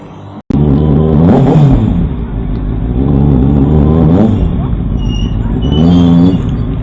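A 2024 Kawasaki ZX6R motorcycle being ridden in traffic, its loud engine rising and falling in pitch through several revs and gear changes.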